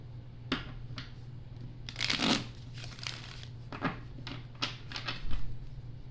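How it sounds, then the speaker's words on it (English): Tarot cards are shuffled by hand in a series of quick, crisp riffling and flicking bursts over a low hum, close and unaccompanied by talk. "2 shuffles for group 4."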